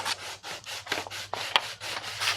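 Stormtrooper armor bicep parts being sanded by hand in rhythmic back-and-forth rubbing strokes, about ten close, steady passes with no talking.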